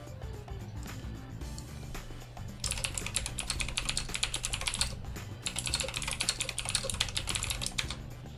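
Steady typing on a computer keyboard, rapid clicking keystrokes close up, growing busier and louder partway through with a brief pause.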